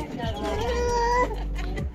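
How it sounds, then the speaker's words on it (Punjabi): A cat gives a single drawn-out, wavering meow close by, with voices in the background. "ਹਾਂ ਬਿੱਲੀ"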